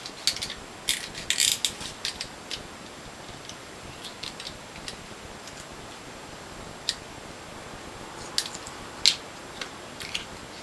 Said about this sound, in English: We're going to remove the sliders and the legs, and then take the bottom plate off.